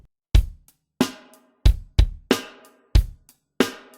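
A drum kit plays a simple beginner rock beat, with punchy bass drum and snare hits in a steady pattern, including a doubled kick, sounding close and dry with nothing else heard.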